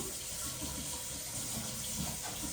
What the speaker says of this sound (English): Now we're going to rinse the hand.